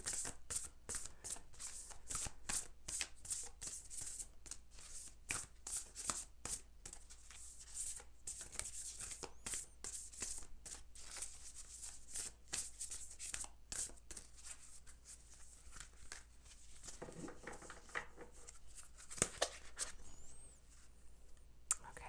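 Tarot cards are shuffled close up in repeated quick riffles and slides, a crisp papery flutter with soft taps, quiet and intimate; brief soft talk is heard faintly at times.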